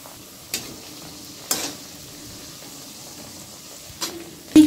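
Chicken lollipops frying in a pan over low gas as they are stirred, a soft steady sizzle broken by a few sharp scraping or clattering stir strokes.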